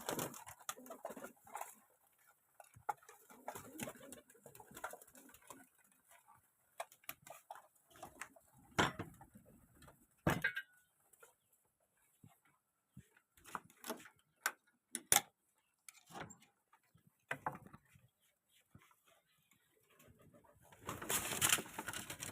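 Pigeons being fed grain coo and flutter sporadically with scattered ticking and tapping sounds, moderately close, with a burst of rustling noise at the end.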